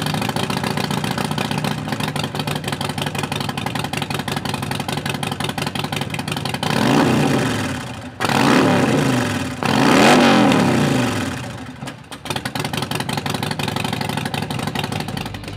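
A 2009 Harley-Davidson XL1200N Sportster 1200 Nightster with a Vance & Hines exhaust and an open air intake rumbles loudly and close, idling steadily, then revs up in several throttle blips midway before settling back to a lumpy idle.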